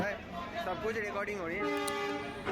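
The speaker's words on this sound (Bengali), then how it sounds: "ট্রেন ঢুকে গেছে তো এবারে ট্রেনেতে উঠবে" A train pulls into Old Delhi station in the evening, a sustained horn sounding in wavering tones across the clip before settling into a steady blast, with voices mixed in.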